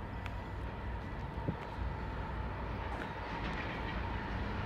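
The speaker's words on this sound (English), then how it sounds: "So here's a freight train." A CN freight train rolls past at a distance in Morton Grove with a low steady rumble, faint clanks and rattles, and a thin tone running underneath, no voices.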